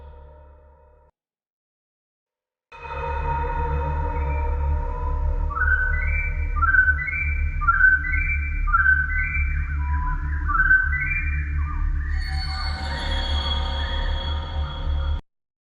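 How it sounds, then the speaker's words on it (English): A slowed, pitched-down birdsong: repeated warbling whistle-like phrases over a low rumbling drone, eerie and synthetic, running continuously for several seconds. "I'll drop in this sample of birds singing and slow it down to make it sound weird"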